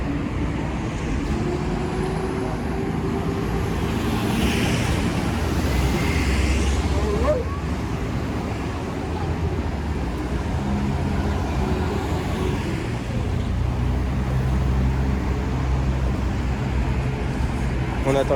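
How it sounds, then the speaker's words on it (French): A car passes on a city street in Amman, a steady broad engine and road rumble that swells and holds across the clip, with faint speech mixed into the traffic noise. "On attend que la voiture passe"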